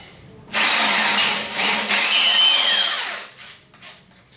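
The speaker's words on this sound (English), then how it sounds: "they're not much good for drilling holes in metal." Hex-shank power drill boring a 10mm hole in metal, a loud harsh grinding whine with a shrill squeal, running in bursts over about three seconds before dying down.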